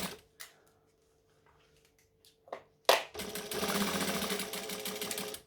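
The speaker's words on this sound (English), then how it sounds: "So I'm going to stitch, I'm going to back stitch." A sewing machine back stitching on a McCall's M6442 jacket: a few soft handling taps and clicks, then a sharp start into a steady, close mechanical whir that runs to the end.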